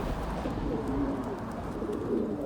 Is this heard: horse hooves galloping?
no